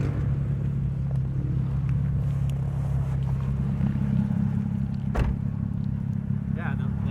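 Modified 2003 Porsche Boxster S heard from outside, its exhaust holding a steady, deep idle rumble throughout, with a brief sharper burst around the middle.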